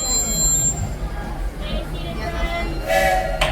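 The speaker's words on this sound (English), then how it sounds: "As we approach the station, please remain seated until the train comes to a full and complete stop." Disneyland Railroad train rolls steadily into a station with a low rumble of wheels on track, and a whistle-like tone and hiss come near the end.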